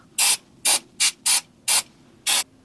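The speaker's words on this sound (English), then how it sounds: "Just spray brake cleaner" Brake cleaner sprayed from an aerosol can during a Range Rover L322 service, six short loud hissing bursts in quick succession, each about a quarter second, close by with quiet gaps between.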